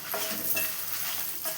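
Dry red chilies and asafoetida roast on a low flame, a soft continuous sizzle with a few light stirring scrapes, close and fairly quiet.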